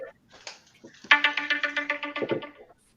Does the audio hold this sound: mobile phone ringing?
yes